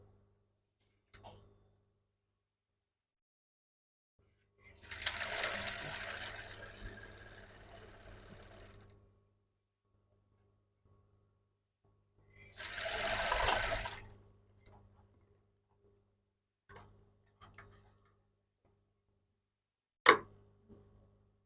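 A sewing machine stitches fabric pieces for a bustier in two short runs of quiet whirring, separated by silence, with faint clicks and a sharp tap near the end, no talk.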